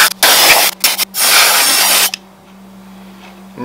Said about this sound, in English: Let's blow some air in here.